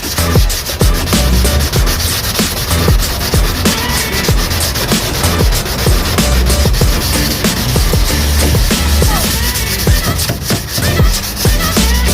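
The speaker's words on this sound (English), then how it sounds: "So I'm busy sanding down, prepping the outside of the lip before I start gluing." Loud, steady abrasive rubbing while sanding the outside of a Mercedes-Benz A45 AMG lip, continuous with rhythmic scraping strokes and occasional knocks.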